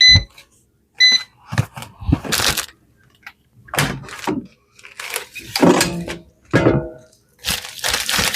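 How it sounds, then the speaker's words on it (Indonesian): An air fryer cooking shrimp gives two short, sharp beeps, followed by scattered rustling, crinkling and clattering handling noises close by. "Kita goreng pakai air fryer saja teman-teman."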